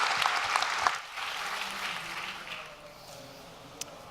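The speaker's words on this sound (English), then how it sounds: "let's give him a round of applause" An audience at a machine learning tech talk applauding as a speaker comes on stage, a moderate burst of clapping that thins and fades away over a few seconds.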